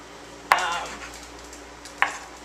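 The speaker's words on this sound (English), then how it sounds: "So I'm cutting it into fours, then I'm cutting it into halves there." Two sharp knife strikes on a cutting board, about a second and a half apart, as a block of frozen tofu is cut into roughly even squares; quiet kitchen room tone between the cuts.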